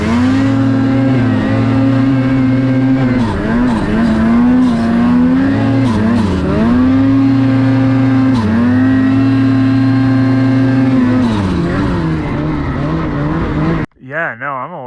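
A car ice-drifts on a frozen lake, its engine revving hard in long wavering drones that rise and fall with throttle changes, loud and close, before the sound breaks off abruptly and a short warbling noise follows.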